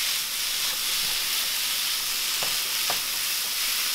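Food browns in a pan over a fairly high flame while a seafood sauce is made, a steady dense sizzle and hiss filling the whole span, with a couple of faint soft knocks underneath.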